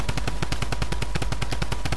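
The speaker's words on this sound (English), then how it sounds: "What are they shooting us with?" Rapid automatic gunfire in the Fortnite video game, a steady, evenly spaced stream of loud, sharp shots, about eight per second, with no talk over it.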